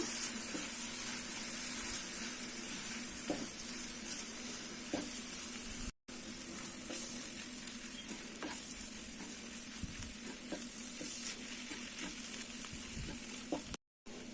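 Egg kothu parotta mixed with salna on a hot pan, giving a continuous loud sizzle with scraping and clattering stir strokes and two brief dropouts in the sound.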